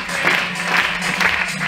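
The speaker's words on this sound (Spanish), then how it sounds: "Vamos a darle un fuerte aplauso a todos ellos." Applause for participants at the 2006 Festival de los Kintos in Albelda de Iregua, a steady, dense clapping that holds at an even, moderately loud level throughout.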